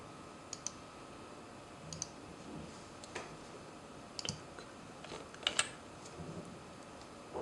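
Light clicking keystrokes on a computer keyboard as an email address is entered, sparse and uneven taps with a few sharper clicks, close and fairly quiet over faint background hiss.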